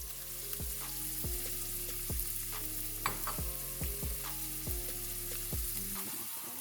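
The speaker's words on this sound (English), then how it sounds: "I'm starting off with a pan with some olive oil. I'm going to add in my diced onion." Diced onion frying in olive oil in a pan, a steady close sizzle with repeated soft scraping taps of a utensil stirring, no talking.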